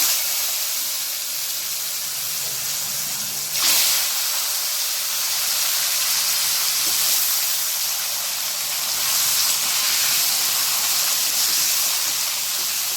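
Potatoes frying in hot oil with white cumin seeds for a Bengali rui fish curry, a loud steady sizzling hiss throughout with a brief sharper burst early on.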